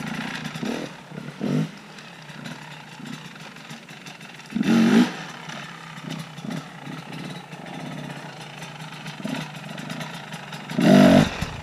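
A motorcycle engine during a wheelie, idling and running steadily, with two sharp throttle blips about seven seconds apart that swell loudly then drop back to the low, even engine note.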